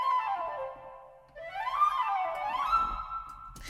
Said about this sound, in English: let's just hear the woodwind really quickly here